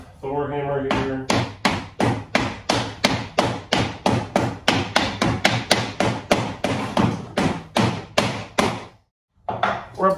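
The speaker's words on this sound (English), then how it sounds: "Now you may need to persuade it a bit. I have my wooden Thor hammer here." A wooden Thor hammer taps a raised wooden shutter panel into place with roughly two dozen close, crisp knocks in a steady rhythm, briefly pausing before the strikes resume.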